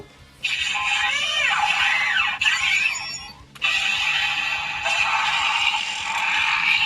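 A Kamen Rider Kabuto CSM Zector belt toy, version 1.5, plays electronic sound effects: bursts of bright synthesized tones and sweeping chirps, loud and close, with short gaps between them and no talking over them.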